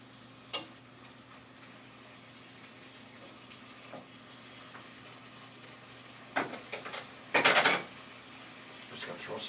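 A spoon knocks and scrapes in a pot of Moroccan-style beef with apricots, with a few scattered clinks and a short clattering burst near the end over a quiet room hum.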